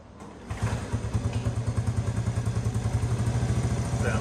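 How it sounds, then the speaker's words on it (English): A Honda TRX70 youth ATV fitted with a new exhaust starts and idles, its small engine putting out a steady, even, close-up putter with a rapid regular pulse and light clatter. "We're ready to fire this thing up and see how it sounds with this exhaust on there."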